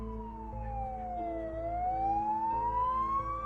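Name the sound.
ambulance siren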